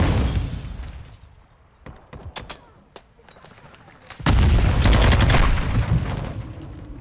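Gunfire in the Modern Warfare 2 video game: scattered sharp shots crack early, then a dense loud burst of rapid automatic fire rattles steadily for several seconds, with game voices faintly underneath.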